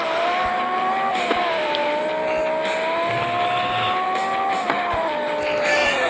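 A Lamborghini drifting in a mobile car-driving video game, its steady engine drone rising and falling with faint tire squeal over continuous loud game audio, no speech.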